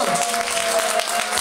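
Audience applause at a concert in the Oasis club in Obninsk: dense, steady clapping from a crowd fills the short stretch at an even level, with a faint sustained tone running underneath.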